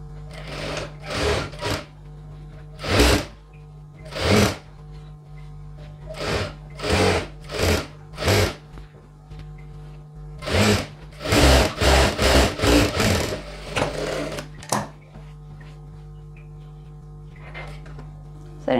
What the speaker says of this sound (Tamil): இப்போ நான் 2 ஸ்டிச் போட்டுட்டேன்.